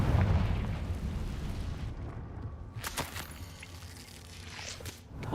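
Bombarda and Confringo spell blasts in the video game Hogwarts Legacy burst out as heavy rumbling booms, followed by sharper impacts with a rising whoosh near the end, fairly loud with no talking.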